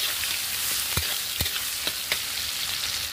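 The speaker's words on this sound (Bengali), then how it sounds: "এবার আমি চেরা কাঁচা লঙ্কা আর পেঁয়াজ কুচানোটা এর মধ্যে দিয়ে দিলাম, দিয়ে আমি এটাকে ভালো করে ভেজে নেব।" Slit green chilies and chopped onion hit hot oil tempered with five-spice, giving a loud, dense sizzle with several sharp clinks and scrapes of a spatula stirring the pan.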